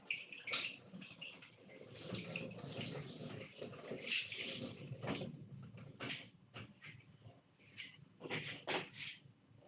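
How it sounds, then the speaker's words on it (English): Water is poured into a cooking pot for pepper soup, making a steady rushing splash for about five seconds. Softer clanks and knocks of the pot follow, heard close with no talking. "Inside the pot, I add water and put the pot on the fire to boil."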